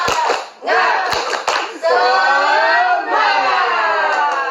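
A classroom of pupils does a 'tepuk semangat' clapping chant: a few quick claps, then loud voices chanting in unison with long, sliding, siren-like tones.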